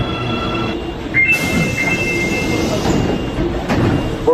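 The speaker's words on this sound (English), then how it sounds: "The train on platform 2 is bound for Noda Hanshi" An Osaka subway train at a platform, with a steady rumbling hum, a faint high squeal and whistle-like tones, and brief door or brake sounds midway, heard up close without speech.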